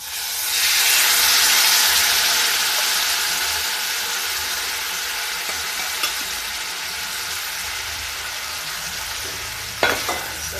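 Cumin seeds and vegetables sizzle steadily in hot oil in a home kitchen, a loud, continuous frying hiss that slowly eases, with a faint clink near the end.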